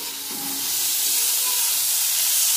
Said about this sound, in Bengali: আমাদের সবজিগুলো ভেজে নেবে সবজিগুলো বেশ কিছুক্ষণ ভেজে নিয়েছি